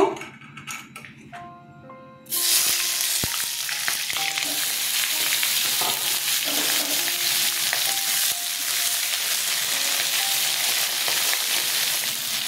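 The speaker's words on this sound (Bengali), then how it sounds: "সর্ষের তেল দিয়ে দিচ্ছি। বেগুনগুলো ছেড়ে দিচ্ছি, ভেজে নেব।" Eggplant pieces dropped into hot mustard oil burst into a loud, dense sizzle after a couple of seconds of quiet kitchen clinks, then crackle and hiss steadily up close.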